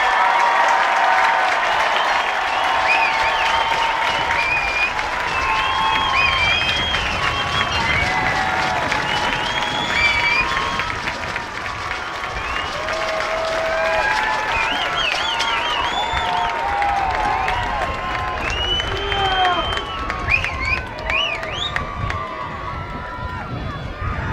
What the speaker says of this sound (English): join us in applauding the graduates in these sections